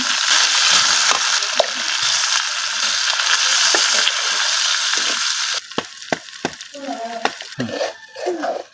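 Spices fry loudly with fish and young taro greens in a pan, a dense, steady sizzle for several seconds that then drops away into sharper scrapes and clatters of stirring.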